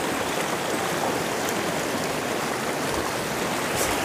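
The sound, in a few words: river stream flowing, Cimaja River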